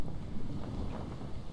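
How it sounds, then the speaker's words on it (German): Wind in the ocean survival game Stranded Deep gives a full, steady rushing roar with slight swells, filling the short stretch alone without talking. "Was für ein Wind."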